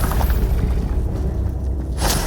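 In Hogwarts Legacy, a Bombarda spell explodes with a loud, dense blast and a shattering crash that fills the whole moment, followed by a brief bright whoosh at the end.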